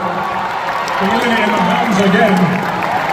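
A crowd at the Europe's Strongest Man 2024 competition cheers and roars for strongman Gavin Hilton, a broad swelling noise that builds slightly, heard beneath a commentator talking over it.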